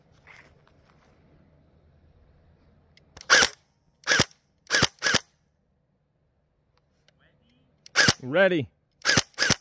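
A YAGEE DGR gel blaster fires in single-shot mode, giving several sharp, close pops spaced over a few seconds, with a brief spoken word among the shots.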